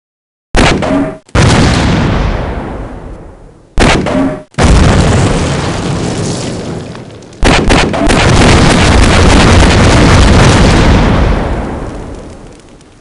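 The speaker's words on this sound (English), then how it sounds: "Just being able to spray a bunch of bullets down range and then also shoot grenades out of each one of the MP5s. You can just rapid fire grenades one after another." Dual-wielded MP5s in the Half-Life video game spraying gunfire and launching grenades in rapid succession, with loud booming blasts and sustained roaring fire.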